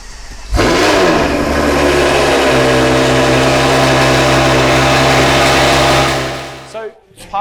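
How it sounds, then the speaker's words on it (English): A straight-piped, naturally aspirated V12 in a slammed Bentley GT revs up hard and holds a loud, sustained, droning howl for several seconds before dropping away, very close. "just the way it sounds is incredible. The naturally aspirated V12 is just spot on"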